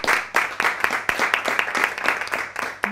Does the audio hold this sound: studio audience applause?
yes